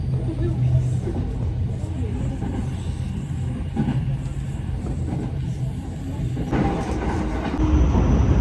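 Shinkansen trains at a station in Japan, a continuous low rumble of rolling stock with faint rail clatter, heard under people talking nearby.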